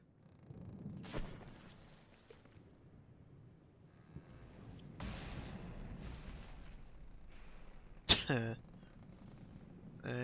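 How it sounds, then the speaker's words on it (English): Torpedoes strike the Yamato battleship in the naval game From the Depths, heard as a few deep, rumbling muffled blasts spread over about ten seconds against low wind-like background noise, with a sharp bright hit near the end. "fire all the torpedoes again, and see if they can do the damage this time"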